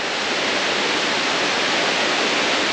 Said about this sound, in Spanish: aquí ya se empieza a escuchar la caída del agua